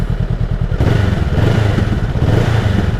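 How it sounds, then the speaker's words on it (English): Honda CMX500 Rebel motorcycle engine cranking over, catching, and settling into a deep, throbbing idle, close and loud with a steady low pulsing beat. "There's a nice deep sounding growl, very reminiscent of the Harley-Davidson bikes lah, or cruiser bikes in general lah"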